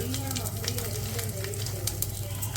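Mustard seeds, cumin and asafoetida crackle and sizzle in hot oil, a dense, steady frying hiss with small popping bursts, close by, and a faint voice present underneath.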